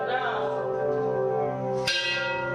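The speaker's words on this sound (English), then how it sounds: "I'm ringing the bells" Church bells ring out in a sustained, resonant peal, with a fresh strike near the end renewing the bright, humming tones.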